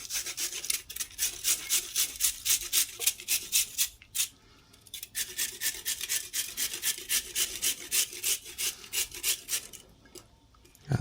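A carrot being grated by hand for a Japanese side salad with carrot-ginger dressing, with rhythmic, rasping strokes repeated steadily at close range, broken by one short pause midway and another near the end.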